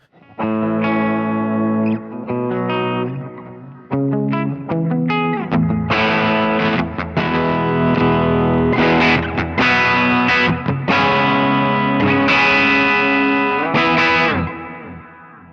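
An electric guitar plays chords and single notes drenched in lush, dark plate reverb, with long washy tails between phrases and no talking.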